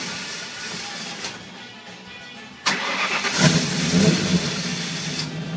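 A Ford Maverick engine runs with a low, subdued hum, then a sharp click and a rise into a fuller idle rumble that continues steadily close by, without any talking.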